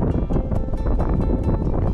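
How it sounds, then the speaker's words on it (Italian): Strong wind buffets the microphone on a roadside in Peru, a steady loud rumbling roar with gusty fluctuations and no voices. "c'è un vento pazzesco"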